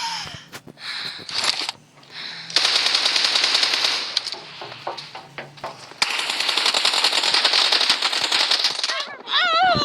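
Automatic gunfire from a weapon in the mobile game PUBG Mobile rattles in long, loud continuous bursts with brief pauses between, followed by a short electronic warble at the end.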